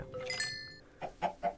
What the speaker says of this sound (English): I need all these chickens to shut up.